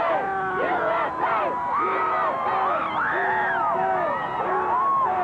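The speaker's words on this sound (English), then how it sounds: "the cheer goes up again. USA! USA! USA!" Airport crowd awaiting the 1980 US Olympic hockey team cheers and chants USA in a dense, continuous roar of many voices rising and falling in rhythmic calls.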